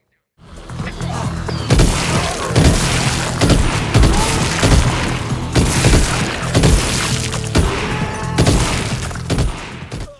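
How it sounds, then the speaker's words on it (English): Pistol and shotgun blasts in the VR zombie shooter Arizona Sunshine 2, loud repeated shots in an irregular rhythm, some sharp and close, with booming tails and a steady background drone. "The different gun sounds carry real weight, highlighting the differences between weapons, like a pistol and a shotgun."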